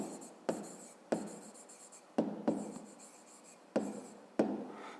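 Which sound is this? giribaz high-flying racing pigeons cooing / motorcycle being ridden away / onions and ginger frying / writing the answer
writing the answer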